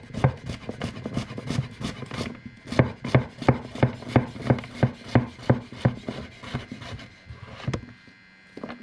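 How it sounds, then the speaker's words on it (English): A knife slices yellow and zucchini squash on a cutting board in a steady rhythm of about twenty close, crisp chops, then slows and stops. "here we have the tip of the blade well seated into the cutting board, and just leverage the blade straight down"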